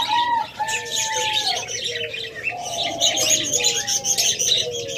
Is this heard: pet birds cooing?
yes